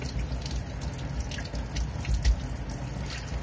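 Running tap water splashing steadily over dishes in a sink, a continuous close hiss and trickle with occasional small clinks, no talking.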